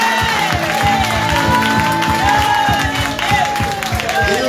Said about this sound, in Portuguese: Salva de palmas para nosso bom Deus.